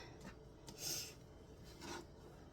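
Zucchini being grated by hand for a chocolate zucchini loaf, giving two soft rasping strokes about a second apart, faint and close, with no talking.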